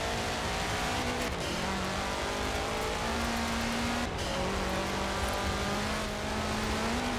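A Subaru WRX races in Forza Horizon 4, its engine a continuous loud drone with steady held tones and faint shifts in pitch, running throughout with no talking.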